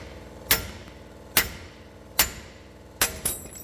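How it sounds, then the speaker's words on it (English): Four sharp, loud metallic impacts from a pneumatic air hammer driving out a bushing at a steady pace, each ringing briefly before the next, the last followed by a quick second tap. "Hit her with the fucking air hammer."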